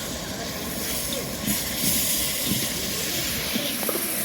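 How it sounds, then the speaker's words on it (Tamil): Chopped tomatoes sizzle in a hot cooking pan as they are stirred, a steady, close broadband hiss with faint voices in the background. "தரம் கிளறி விடலாம்ப்பா."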